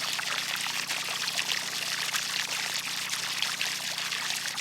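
Water poured into a well pump to prime it, a continuous bright rushing stream, close and steady throughout with no talking.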